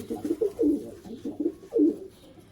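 Teddy pigeons at a pigeon sale cooing close by in several soft, low, rolling phrases with short pauses between.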